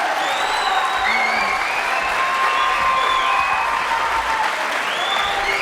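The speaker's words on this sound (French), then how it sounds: "Applaudissements peut-être pour Patrice et Sophie" A studio audience on a French children's TV show applauds steadily for Patrice and Sophie, a dense, loud wash of clapping with some crowd noise and whistle-like tones riding over it, continuous throughout.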